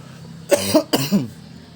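Two harsh coughs in quick succession, close and fairly loud, with no talking around them.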